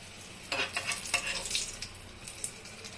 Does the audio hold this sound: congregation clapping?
no